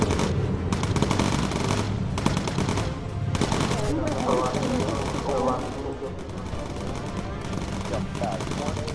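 Machine-gun fire from a bomber's turret crackles in rapid bursts in the aircraft game Bomber Crew, over a steady engine drone, while someone talks over the shooting.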